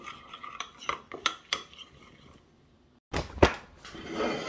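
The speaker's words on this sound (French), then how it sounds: "Et on vient mélanger, voilà, on essaie de tout récupérer le chocolat." A metal spoon clinks and scrapes against a bowl while chocolate sauce is stirred, a series of sharp irregular taps, then a short pause and a louder scraping clatter close by.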